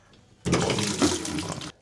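Water rushes through a newly installed shower valve as it is flushed out, a steady hissing gush that starts abruptly, runs for over a second and stops sharply, close and moderately loud.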